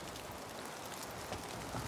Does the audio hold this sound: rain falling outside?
yes